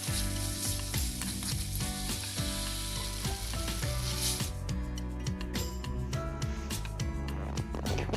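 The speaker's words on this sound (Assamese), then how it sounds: "মই ভালদৰে ভাজি ল'ম।" Green chillies and ground cumin-coriander paste frying in a pan, a loud continuous sizzle with repeated scraping strokes of a spatula and occasional clinks against the metal.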